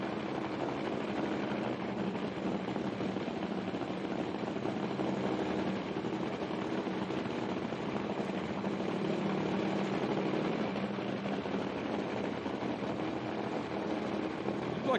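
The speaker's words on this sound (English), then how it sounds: "Looks like it's idling a bit high too" A Top Fuel drag racing car's nitro engine idles high at an IHRA Outlaw Nitro Series event, a steady continuous rumble with talk faintly mixed in.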